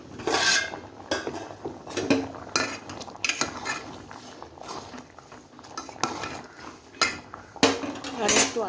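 Metal lid and pan clatter over a potato and tomato curry with egg, with repeated clinks and scrapes of varying loudness, close by and without talk.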